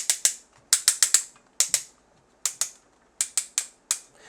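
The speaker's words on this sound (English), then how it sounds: "But again, the ratchets feel and sound bad." Ratcheted hip and knee joints on a Jurassic Cops Juraking toy action figure click sharply and close up, in single clicks and quick clusters of two to four, with nothing else heard.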